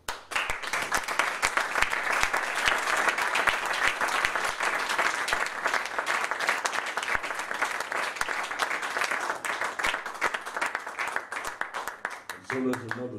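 An audience at a jazz concert in an Italian venue applauds in a long, dense, even wave of clapping that fills the space before tapering off, with a voice and some instrument sounds faintly coming through near the end.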